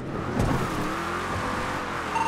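Several video game cars rush past one after another, engines droning and whooshing close by, with a steady motor hum underneath.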